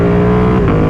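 A 2021 Ducati Panigale V2 with a full Akrapovic exhaust revs in the mid-range, a loud, close, deep throbbing engine note that holds steady, then shifts pitch slightly near the end.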